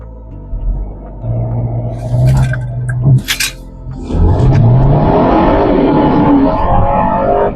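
A Mercedes C300 pulls away from a standstill, its engine note rising loudly and steadily as the car accelerates, with no talking.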